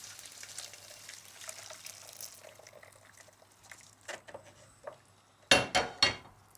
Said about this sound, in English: I'll just grab another jug and a strainer, and we'll strain this so we can get rid of the shells